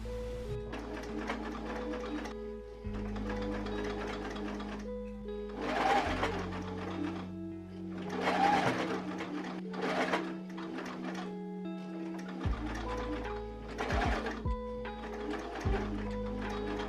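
Sewing machine stitching at its longest stitch length, working in repeated bursts of steady whirring and needle clatter separated by short pauses, close-up.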